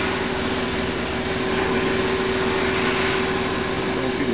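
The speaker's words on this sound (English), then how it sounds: "Here is the new and improved bead blaster." A shop bead blaster running at a steady, loud, continuous hiss of rushing air and abrasive, unbroken and even throughout with a faint tone underneath, no voices.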